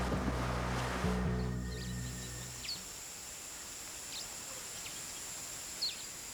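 Calm sea with gentle surf washing steadily at a distance under light wind, a low rumble fading after the first couple of seconds, with faint bird calls chirping intermittently over the quiet water.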